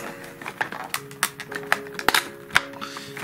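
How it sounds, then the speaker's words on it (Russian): Packing tape being sliced open on a parcel holding a MoYu MeiLong Pyraminx puzzle, a string of short sharp clicks and scratchy snaps close by, with no speech. "Срезаем скотч."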